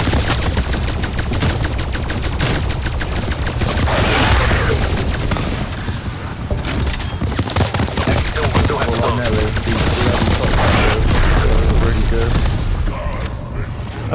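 Gunfire and explosions from a Call of Duty: Black Ops Cold War Zombies match on the Firebase map, with dense, rapid automatic bursts crackling nonstop alongside booms and game clatter. The din is loud and continuous, and voices talk over it.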